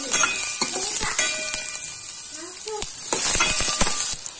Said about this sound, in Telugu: ఆనియన్స్ వేసుకొని బాగా ఫ్రై చేసుకోవాలి